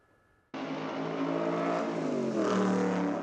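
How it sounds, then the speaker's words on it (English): High-performance race cars at the Kyalami Grand Prix circuit roar up abruptly from near silence into a loud, sustained engine howl that holds steady, with pitch shifting and rising toward the end. "The high-octane thrill and roar of high-performance cars"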